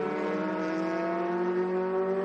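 A race car at Watkins Glen pulls along without reaching full revs, its engine a steady, loud, close drone whose pitch rises slowly and evenly throughout, with no one talking over it.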